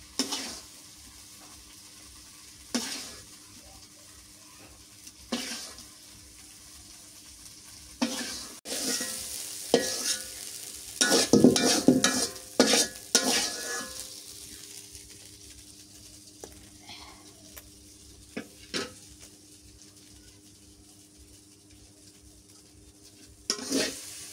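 Baim eel fish bhuna stir-fried in a pan, a low background sizzle broken by intermittent scraping and stirring strokes, busiest midway, heard up close with no talking.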